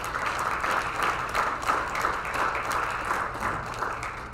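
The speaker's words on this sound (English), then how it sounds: "Please give our staff winners a big round of applause before they exit." Applause for staff award winners at an academic awards ceremony, a steady moderate round of clapping from an audience, slightly distant and continuous throughout.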